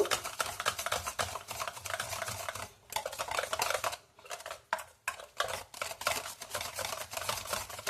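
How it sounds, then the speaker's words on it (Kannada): A spoon beats and stirs curd with turmeric in a bowl, producing quick, steady scraping and tapping with a few brief pauses, close and clear. "ಇಷ್ಟು ಫಸ್ಟ್ ಬೀಟ್ ಮಾಡಬೇಕು ಎಲ್ಲ ಮಿಕ್ಸ್ ಮಾಡಬೇಕು"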